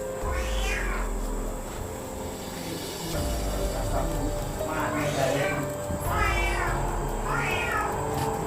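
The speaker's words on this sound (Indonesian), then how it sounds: "Tadi kan ada suara kucing" Several loud cat meows and yowls rise and fall in drawn-out wails, close by, with people talking and background noise running underneath.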